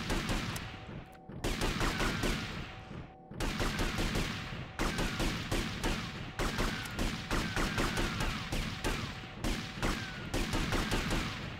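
Sustained automatic gunfire in GTA Vice City Definitive Edition rattles in long, rapid bursts broken by brief pauses, steady and fairly loud across the stretch, with no voices.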